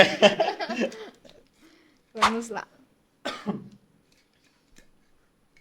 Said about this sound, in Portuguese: Começou a tosse do primeiro episódio